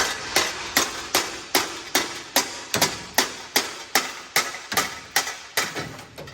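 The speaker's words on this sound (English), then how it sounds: "I'm gonna try to hammer on this exhaust right here" Hammer blows ring against a rusty car exhaust pipe, seventeen sharp metallic strikes in a steady, fairly quick rhythm, close and loud with no talking.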